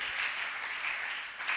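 A church congregation claps in acclamation, producing a soft, continuous wash of applause heard from a distance for under two seconds.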